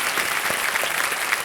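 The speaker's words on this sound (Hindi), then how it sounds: "तालियां बजाएं इनके लिए।" Studio audience applause on a televised quiz show set, dense and steady sustained clapping throughout, fairly loud with no voices over it.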